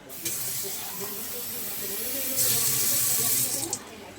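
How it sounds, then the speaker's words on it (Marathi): A glassful of water is poured into a pot while making dough for steamed modak, producing a steady gushing, splashing pour that grows louder and brighter toward the end before stopping, heard up close. "आणखीन 1 ग्लास पाणी टाकते आणि चांगलं उकळून घ्यायचं आहे"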